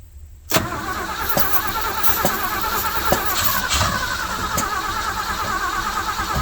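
A 1971 Ford F100 with an FE 360 engine, abandoned for years, cranks on starting fluid, then catches and runs rough and loud with repeated sharp pops and bangs over several seconds.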